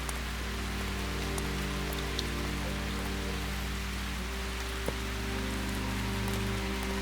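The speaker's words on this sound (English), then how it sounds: "Look at us standing in the rain." Rain in the video game Calvino Noir, a steady, quiet patter of drops on a surface over a low ambient hum, with no voices.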